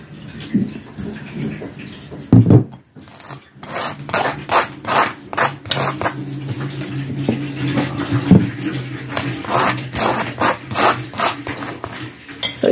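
Knife spreading butter and homemade jam, heard as close, rhythmic rasping scrapes in repeated back-and-forth strokes, with a short clatter partway through.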